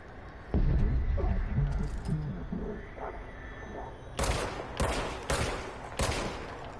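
Game gunfire from a handgun in the action game Control, with shots ringing out among rumbling effects and a few louder, sharper bursts toward the end, close and prominent.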